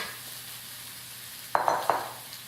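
Cilantro being mixed into already-cooked organic white basmati rice with carrots: a few soft, close stirring scrapes and rustles, clustered in a brief burst after a quiet start, with no talking.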